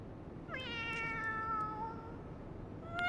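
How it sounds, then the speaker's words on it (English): A cat in Final Fantasy XIV lets out one long, clear, rising-and-falling meow, close and isolated, with the start of another meow right at the end. "Kitty."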